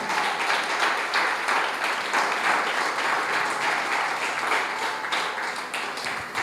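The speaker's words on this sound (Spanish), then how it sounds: "Dele un aplauso al Señor por eso" Congregation in a church applauding together, a steady, dense wash of many hands clapping close by, sustained at even loudness throughout without pause.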